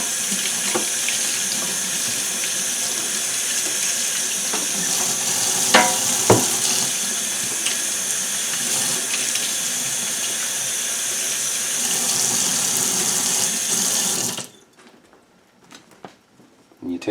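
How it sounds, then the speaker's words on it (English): A sink tap runs water over a nylon bullwhip, a loud steady splashing rush with a few brief clunks, lasting about fourteen seconds before cutting off to near silence. "We take it in the sink, run some water over it"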